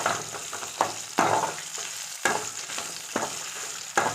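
Small onions and dried chillies sauté in a pan for a sprouted green gram curry: a soft background sizzle with regular scraping stir strokes about once a second, close and fairly quiet.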